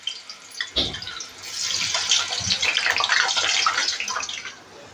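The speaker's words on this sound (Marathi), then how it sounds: "हे मी बटाटे फ्राय करायला टाकते आणि हे थोडे सांभाळूनच टाकायचे, कारण पाण्यातनं काढून आपण तेलामध्ये टाकतोय ना" Water-soaked potatoes dropped into hot oil burst into a loud, close, continuous hiss and crackle that swells and holds steady, with no talk over it.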